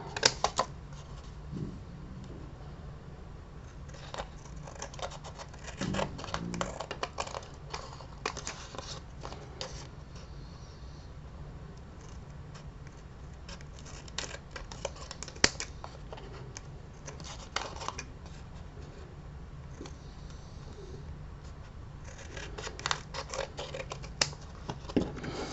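Scissors snip through paper for a Halloween ATC craft project, a run of short crisp cuts and rustles at close range, alone with no talk.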